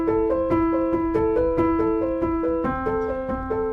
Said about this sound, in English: right now it sounds like a human playing the piano